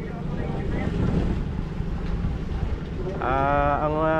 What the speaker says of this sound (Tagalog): Grabe lakas ng hangin dito mga soyo.